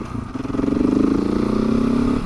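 KTM 690 single-cylinder motorcycle engine while riding, a loud, close, steadily rising drone as the bike accelerates, with no talking.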